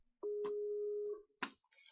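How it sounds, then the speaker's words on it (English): A Skype call ringing over a computer during a Roblox gaming session, a single steady electronic tone held for about a second, followed by a couple of short, clicky blips, fairly quiet and with no voices. "Skype is still like ringing for me!"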